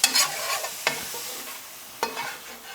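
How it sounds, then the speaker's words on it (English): A spoon or spatula scrapes the bottom of a hot pan of sautéing stuffing vegetables seasoned with salt and pepper, lifting the fond. A few distinct scrapes sound over a steady close sizzle. "Make sure you scrape the bottom of the pan really good."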